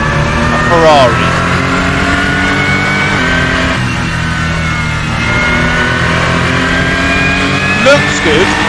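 A Ferrari LM296 GT3 race car engine whines loudly and continuously around the Monza circuit in a sim racing game, with quick rising and falling pitch sweeps at gear changes and a voice talking over it.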